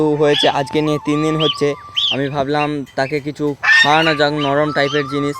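Two male domestic geese honk loudly and repeatedly near a newly hatched gosling, their brassy calls breaking in between and over someone talking close by.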